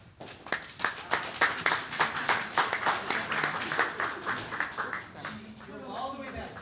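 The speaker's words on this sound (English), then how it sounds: "Let's give her a round of applause" A round of clapping at a school district board of education meeting, a brisk group applause with distinct hand claps that stays steady, then thins toward the end as voices start talking.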